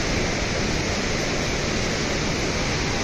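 Water from the Surya Kund hot spring at Yamunotri pours in a continuous, loud, even rush, close by and without pause.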